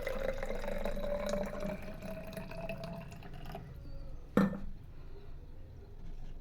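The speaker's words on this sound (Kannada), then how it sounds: "ಇದು ಕರೆಕ್ಟಾಗಿ ಮಾರ್ಕ್ ಮಾಡಿ ನಾನು ನೀರು ಹಾಕೋತಾ ಇದ್ದೀನಿ." Water runs into a measuring cup up to the 125 ml mark in a home kitchen. A steady trickling pour lasts a few seconds, then stops, and a single sharp clink follows.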